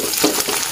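Egg frying in a pan, a steady broadband sizzle and crackle running continuously at close range with no voices over it.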